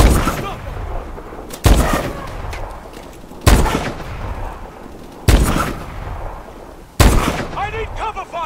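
Heavy gunfire in the shooter Call of Duty: Advanced Warfare: five loud, sharp bursts spaced about two seconds apart, each decaying into a rumbling tail, with shouted voices between them.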